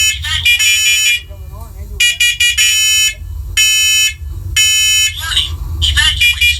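A First Alert Onelink smoke alarm sounds loud, repeated shrill beep patterns in rhythmic bursts, alternating with a synthesized voice giving spoken warnings, all close and dominant.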